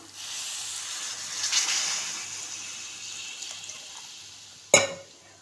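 A steady hissing pour of water into a cooking pot of spiced curry (kulambu) runs for several seconds, swelling briefly, then ends with a sharp clatter near the end.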